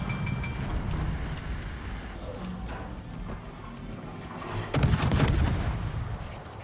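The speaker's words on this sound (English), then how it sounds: "And we get him with our main guns." Destroyer Shimakaze main guns firing in World of Warships, heard as a constant low battle rumble that erupts into a heavy, booming salvo near the end.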